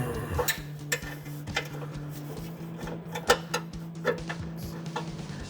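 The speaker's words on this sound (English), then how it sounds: "So you just gotta fight it with a wrench" A wrench working a tight, lubricated bolt on a 2011-2014 Mustang V6 during exhaust axle-back installation, giving irregular metallic ticks and clicks over a low steady hum.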